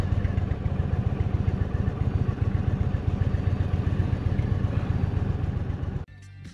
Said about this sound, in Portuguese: Vou estacionar aqui a moto à sombrinha, atrás do Pedro